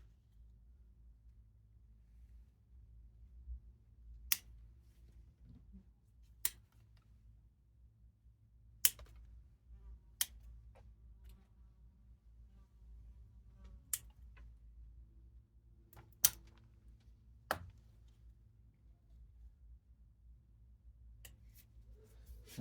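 Scissors trim the foliage pads of a Cotoneaster bonsai: sharp, isolated snips land every second or two against a quiet, low background hum.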